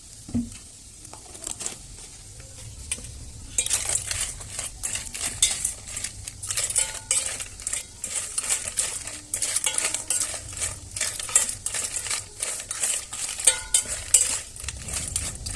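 Potatoes seasoned with turmeric and salt stirred and fried in a small pan, busy metallic scraping and clinking of a spoon against the pan over a steady frying sizzle, loud and close throughout.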